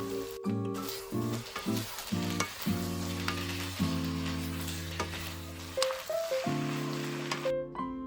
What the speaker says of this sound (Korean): 마지막으로 볶아둔 재료들을 모두 넣고 골고루 버무려줘